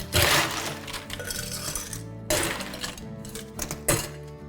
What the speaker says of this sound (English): Cocktail glass, fill it full of ice.